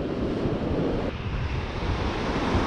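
Waves wash against the shore of Chesapeake Bay in a constant, full surf rush, heavily buffeted by wind noise on the microphone, close and continuous throughout.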